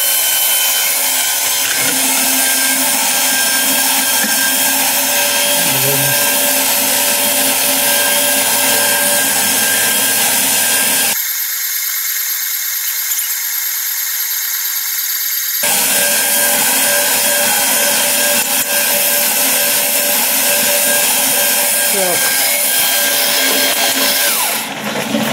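Electric stirrer running inside a copper beer brewing kettle, a steady loud mechanical whir and hum that continues without pause, with a brief stretch where the low rumble drops out before resuming.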